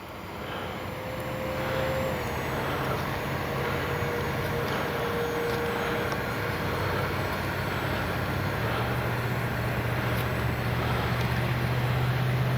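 Kavan Bristell B23 radio-controlled scale biplane flying past outdoors, a steady loud engine drone that holds for the whole stretch with a slowly shifting tone, no talking.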